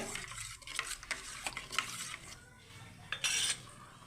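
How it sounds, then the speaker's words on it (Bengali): Mustard paste is stirred with water in a bowl, with close, uneven swishing and scraping strokes and a few light clinks of a utensil against the bowl. "আমি এটা ভালো করে সর্ষেটাকে জল দিয়ে গুলে"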